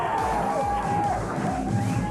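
A kickboxing crowd cheers and whoops for the hometown fighter at a title bout, a continuous roar of voices with a whistle-like tone running through it.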